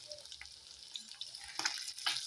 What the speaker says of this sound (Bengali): মাছের তেলটা যেরকম ভাজা হচ্ছে দেখো